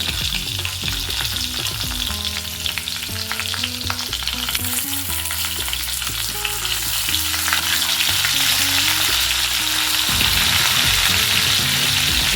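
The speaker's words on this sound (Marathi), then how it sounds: "आता यामध्ये मी ही वांगी सोडून घेते, जी आपण भरली होती ना ती वांगी सोडून घेते." Stuffed brinjals fry and sizzle loudly in hot oil with popped mustard seeds and cumin, a dense continuous crackle with stirring throughout.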